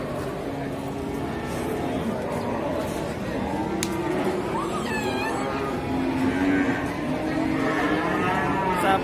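An extremely skinny, emaciated cow moos loudly in a long drawn-out call amid steady outdoor background noise, with harmonic lowing rising and falling over several seconds close to the listener.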